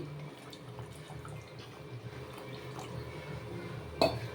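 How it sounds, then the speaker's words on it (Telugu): Water poured into a pot of country chicken gravy, a soft running, bubbling liquid sound over faint kitchen noise, ending in a brief louder splash near the end. "స్టేజ్లో కొంచెం వాటర్ పోస్తున్నాండి నేను."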